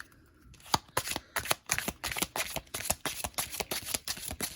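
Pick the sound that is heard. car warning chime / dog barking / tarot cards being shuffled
tarot cards being shuffled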